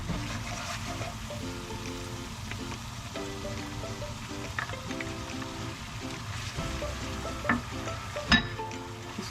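Chicken korma masala mixed with beaten yogurt fries and is stirred in a pan, giving a continuous sizzle with repeated scraping strokes and a louder clank near the end.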